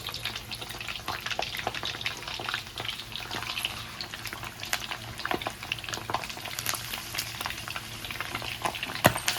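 Pork tails deep-frying until crispy in hot oil, giving a steady close-up crackle and bubbling hiss with scattered sharper pops throughout, no voices.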